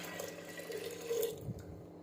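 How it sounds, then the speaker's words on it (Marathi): Water runs and splashes steadily into a container, a continuous faucet-like trickle with a brief clunk near the end; no one speaks. "पाणी टाकलं आता त्याच्यामध्ये"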